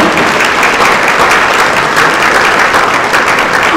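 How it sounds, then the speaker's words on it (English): Hall of Fame induction ceremony crowd applauding baseball inductee Kevin Maloney, loud, continuous clapping that stays steady for the whole stretch. "round of applause, Kevin Maloney"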